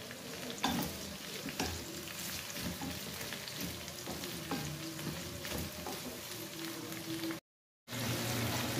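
Okra pieces sizzle in hot oil in a pan while a spoon stirs them, giving a steady crackling fry with scraping stir strokes close up, briefly cutting out near the end, with no talking.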